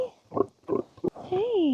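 Pigs oink and grunt close by in a few short bursts, followed by a higher squeal-like rising tone, all quiet and brief.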